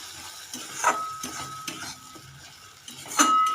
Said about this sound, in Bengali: একটা মাঝারি সাইজের টমেটো আমি এখানে পেস্ট করে নিয়েছি, সেটা দিয়ে ভালো করে নাড়িয়ে নেব।